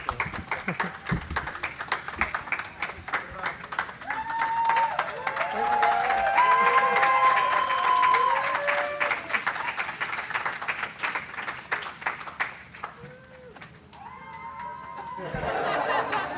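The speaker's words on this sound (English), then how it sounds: "Please join me in a round of applause as we wish our crew well" A crowd applauds as the crew enters the Mars simulation habitat in Houston. Dense, steady clapping builds with a few whistles and cheers mixed in, then thins out toward the end.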